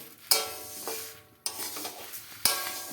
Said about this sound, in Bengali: ডালটাকে একটু ভেজে নিচ্ছে।